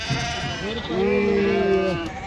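Sheep at the Pebbair livestock market bleat loudly nearby, one long wavering cry after a shorter call, over a busy crowded background.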